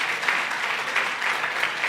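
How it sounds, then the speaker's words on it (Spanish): Applause from a church congregation, honoring great-grandparents during a Spanish-language sermon, a steady wash of many hands clapping that holds at an even level for the full span with no voices over it. "Un aplauso para los bisabuelos."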